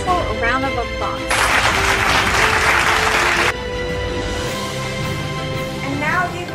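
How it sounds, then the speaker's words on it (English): A virtual round of applause for winners and participants at an online UN celebration, a dense burst of clapping in the middle of the stretch, set against background music and voices before and after. "Let us all give them a virtual round of applause."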